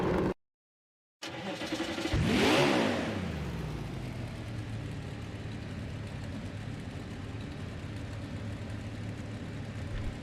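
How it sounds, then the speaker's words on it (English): Race car engines at Daytona in the NASCAR Heat 5 video game fire up after a short silence, with a loud swelling rev that settles into a steady, continuous engine drone for the rest of the clip. "We just got our engines fired up."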